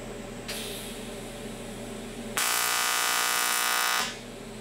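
A TIG welder tacking aluminum at a 140 amp setting gives a steady electrical buzz that starts, then jumps to a louder harsh crackling hum for about two seconds before cutting back, close and alone without talk.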